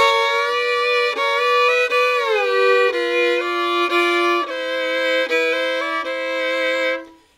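A fiddle plays a sustained lick in paired double-stop notes, bowed smoothly with a few sliding shifts, loud and close, ending with a fade.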